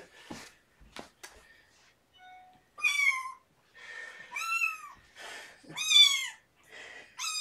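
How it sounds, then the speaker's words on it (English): Several cats meow in a series of short, clear, upward-bending cries, close and moderately loud, interspersed with a few soft clicks and brief quiet breaks. "Oh, kitties."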